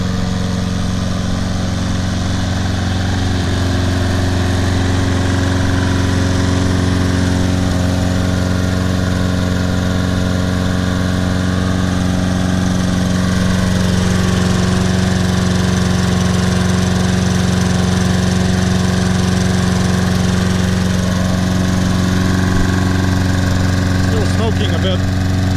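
A Troy-Bilt 21-inch lawn mower with a 675 Series Briggs & Stratton engine runs steadily at idle, a close, loud, droning hum with strong even tones throughout, lightly overlaid by faint talk.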